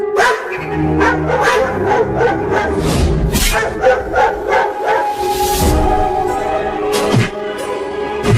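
Several cartoon dogs bark repeatedly and excitedly at close range in front of a wooden house, sharp overlapping barks and yips with a few whimpers, continuing throughout.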